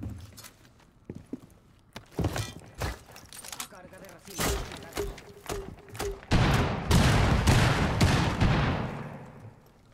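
Gunfire in Rainbow Six Siege: scattered sharp shots early on, then a louder, denser stretch of firing and impacts in the second half, mixed with footsteps and other game noise.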